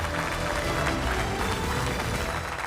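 Studio audience applause welcoming guests on a Hindi television debate show, dense continuous clapping from a full crowd, loud and close throughout.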